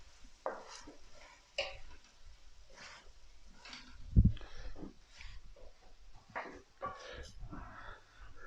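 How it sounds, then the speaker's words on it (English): Cauliflower stir fry being stirred in a pan, with repeated scraping and clattering strokes over a soft sizzle, a louder clunk near the middle and a voice murmuring faintly underneath. "Give it a stir."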